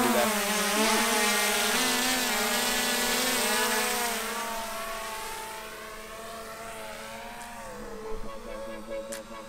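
A Power Egg X drone hovers overhead with a steady high-pitched propeller whine that slowly fades as it moves farther off, ending with a few faint knocks.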